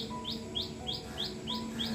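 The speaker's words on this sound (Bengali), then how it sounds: "জোড়া শালিক দেখিয়ে দিলাম" A pair of myna birds calls outdoors: a quick, evenly spaced series of about six sharp chirps over a faint steady background hum.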